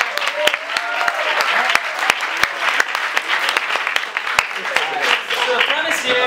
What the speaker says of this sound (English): Everyone give an applause for Gareth.